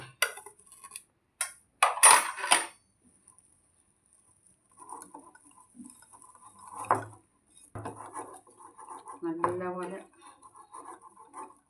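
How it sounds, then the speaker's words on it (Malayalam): Spice batter for potato bhajji being stirred in a bowl, with scraping and clinking of a spoon against the bowl in short bursts, close and fairly quiet, alternating with a person speaking. "കട്ടയില്ലാതൊന്ന് കലക്കിയെടുക്കണം"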